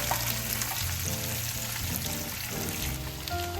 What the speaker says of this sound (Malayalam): നമുക്ക് മീൻ വറുക്കുക